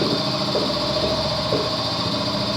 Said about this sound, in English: I'm gonna pause this till that compressor shuts down